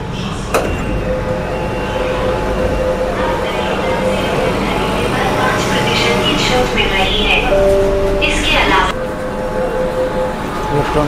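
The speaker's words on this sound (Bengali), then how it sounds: "চলে এসছে মেট্রো।" A Kolkata metro train pulling into Howrah station, with a steady rumbling roar of the train and platform, metallic clinks and a sharp thump near the start, and people talking in the background.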